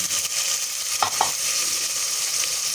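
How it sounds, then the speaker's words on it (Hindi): Potatoes for an aloo matar pulao sizzle loudly and steadily in a hot pan, with a couple of brief stirring clatters near the middle and no one speaking. "इसके अंदर हम 1 पाव आलू ऐड करने लगे हैं"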